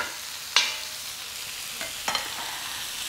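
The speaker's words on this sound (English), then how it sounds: "push all the vegetables to the side to create a little bit of a space in the center of my wok" Vegetables being stir-fried in a wok and pushed aside give a soft sizzle under a few sharp scraping strokes of a utensil against the pan, with no talking.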